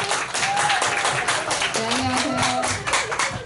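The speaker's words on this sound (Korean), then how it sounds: "박수!" Steady clapping from guests at a family year-end party in a wedding hall, continuous and fairly loud, with voices and tonal background sound mixed in.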